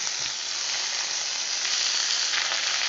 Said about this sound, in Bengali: পেঁয়াজটা আলুটা আবারও তেলের মধ্যে ভালো করে কষিয়ে নিচ্ছি